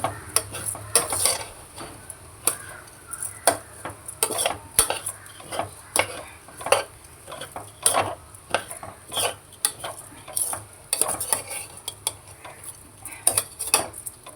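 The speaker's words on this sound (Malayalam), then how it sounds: "അരി ഒന്ന് റോസ്റ്റായി വന്നിട്ടുണ്ട് തീ കുറച്ച് വെച്ച് കൊടുക്കണം" A spoon scrapes and clinks against a pan in irregular strokes, stirring dry rice grains roasting over a faint sizzle, with no talking.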